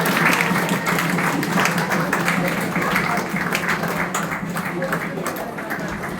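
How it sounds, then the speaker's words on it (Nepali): Applause from a gathering at a Nepali Christmas gift exchange, a steady wash of clapping sustained for several seconds, slightly tapering toward the end, with voices mixed in beneath it. "ल ल ताली बजाइदिनुहोस् ताली।"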